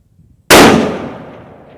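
A single loud, close rifle shot from a Savage 110BA bolt-action chambered in .338 Lapua Magnum, a sharp blast after near silence with a long, ringing decay as the report rolls away outdoors.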